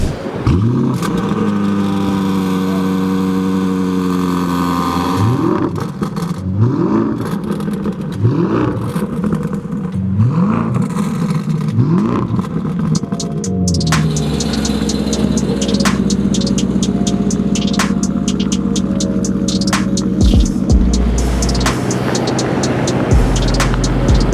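An 800-horsepower sports car with new downpipes revs hard through a loud exhaust, rising and falling in repeated bursts, then settles into a deep rumbling idle with sharp pops.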